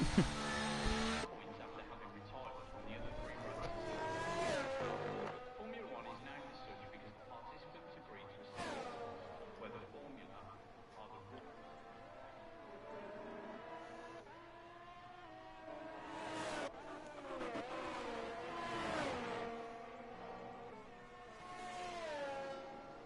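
In-car engine audio from a Formula 1 car in a racing video game during an eRacing Pro Series Mexico Grand Prix: a high, shifting engine whine climbing through gears with abrupt cuts at each shift, under intermittent voices.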